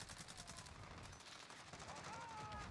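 Rapid gunfire in Call of Duty: Modern Warfare, a fast train of repeated shots that fills the short stretch at a steady, fairly loud level.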